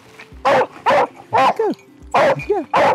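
A search and rescue dog in the New Forest woodland barks repeatedly, giving about seven loud, close yips and barks in an uneven rhythm, with a few whimpering rises between them.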